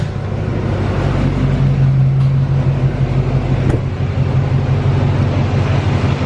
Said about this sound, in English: start it up, and take it for a little drive